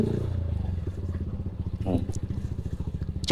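A motorcycle engine idles with a steady, throbbing putter, close and fairly loud, briefly revving slightly before settling back.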